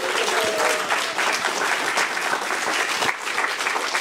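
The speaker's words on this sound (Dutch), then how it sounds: "En ook daarvoor alvast een groot applaus" A studio audience in Amsterdam applauds nominated authors at the live Socratesbeker 2024 book-prize event. The clapping is steady, dense and close, continuing for the full four seconds with no voices on top.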